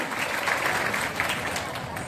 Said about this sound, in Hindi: जोर से ताली बजा दे भैया, जोर से तालियां।